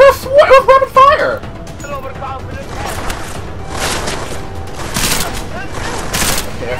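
Burst-fire gunshots in the video game Deus Ex Mankind Divided come as loud clustered volleys with short gaps between them, following a brief voice at the start.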